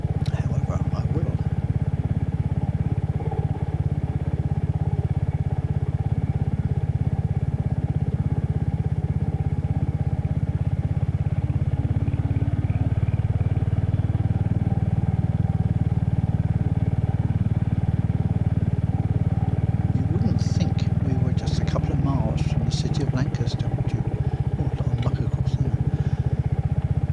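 A motorcycle engine runs steadily throughout, a loud continuous low drone with some clatter near the end, in a quiet countryside-like spot within a city; no one speaks.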